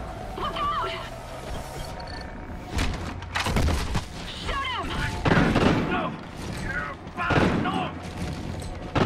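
Gunfire during a space-station battle in Call of Duty: Ghosts, with repeated shots, thuds and blasts arriving in irregular clusters, mixed with shouted voices and radio chatter throughout.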